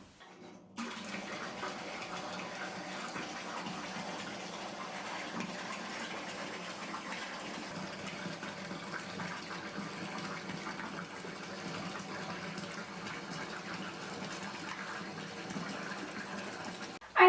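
Water sloshing and running steadily in a bathtub during a bath with a dissolving seaweed bath bomb, a continuous, even wash of liquid noise that holds for the whole stretch without talk, ending in a brief louder splash.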